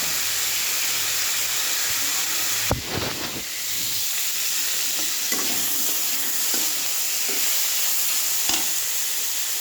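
Green chillies are tossed into a hot frying pan, setting off a sharp crackling burst that settles into a steady, loud sizzle with soft stirring scrapes.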